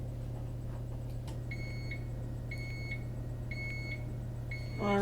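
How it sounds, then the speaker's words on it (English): An oven timer beeps in four evenly spaced bursts of high electronic tones over a steady low hum, then a short voice at the end. "we got a little beep here."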